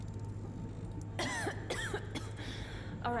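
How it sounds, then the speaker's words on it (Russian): A person coughs a few times in harsh bursts, close and fairly loud over a steady low background hum, with no talk during the coughs. "А что ты кашляешь?"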